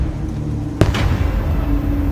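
A single sharp burst of fireworks sets off with a bright crack, followed by a fizzing, crackling tail over a steady background hum.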